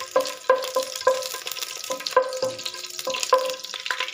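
Bay leaf, cinnamon and cardamom sizzling in hot ghee in a pot for pulao, with a light crackling fry broken by repeated clinks and scrapes of a stirring spoon against the pot.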